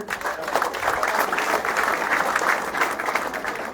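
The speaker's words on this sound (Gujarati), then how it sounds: "આપણે આપણા મહેમાનોને તાળીઓથી વધાવીશું." An audience applauds steadily to welcome guests at the opening ceremony of the TMPL-03 tournament final in Tadkeshwar; the dense clapping holds at an even level for about four seconds, with no voice over it.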